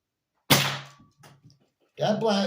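A Kirin Type A foam blaster fires a single sharp, close shot that fades quickly, followed by a short spoken comment.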